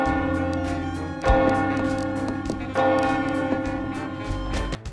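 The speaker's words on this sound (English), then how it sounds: "you'll often hear very distinctive noises at certain times of the day, like a church bell ringing or glass shattering" Church bell tolling in the mystery video game The Sexy Brutale, struck three times at steady intervals, each loud ringing stroke blooming over a sustained, humming musical backdrop with no voices.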